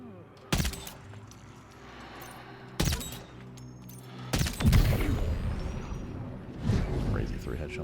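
Three sharp gunshots ring out at spaced intervals in a Death Stranding 2: On The Beach firefight, each a loud crack with a brief booming tail, followed by rumbling noise and a voice speaking over the action.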